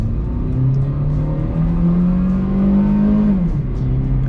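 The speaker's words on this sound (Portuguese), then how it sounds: "Vamos dar uma aceleradinha até aquela curva ali, só pra gente ver como ele se comporta" A Chevrolet Corsa Classic 1.6 automatic in Sport mode pulls hard from inside the cabin, its engine drone climbing steadily in pitch, then dipping briefly at a gear change before continuing, loud and close throughout.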